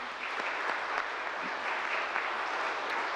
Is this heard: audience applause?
yes